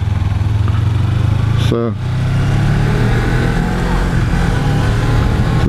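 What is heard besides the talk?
A2 motorcycle engine accelerating while riding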